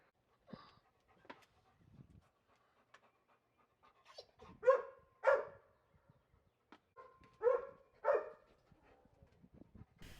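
Labrador dogs confronting a turtle outdoors, panting and letting out a few short barks and whimpers in bursts, with quiet gaps between them and no talk.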